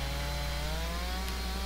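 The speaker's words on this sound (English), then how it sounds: "2166 chainsaw, which is a 4 cubic inch chainsaw, and I'm running the Oregon ripping chain on it with the 24-inch bar" A Stihl 2166 chainsaw with a 24-inch bar and Oregon ripping chain, mounted on a Granberg Mark IV Alaskan mill, cuts lengthwise through a log. It holds a steady, loud engine drone under load, close by and continuous with no voices.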